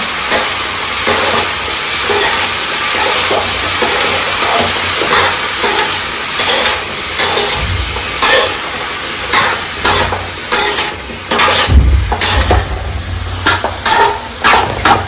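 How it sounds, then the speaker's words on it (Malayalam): A spoon stirs salted food in a cooking pan, scraping in a loud, repeated rhythm over a continuous sizzling hiss, close up, with no one talking. "ഇനി ആവശ്യത്തിനുള്ള ഉപ്പിട്ട് കൊടുക്കാം നന്നായിട്ടിത് ഇളക്കി കൊടുക്കാം"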